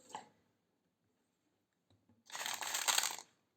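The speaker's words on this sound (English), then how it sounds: "Let me shuffle once more." A brief card flick is followed by a pause, then a second burst of quick riffled shuffling of cards, close and crisp, about a second long.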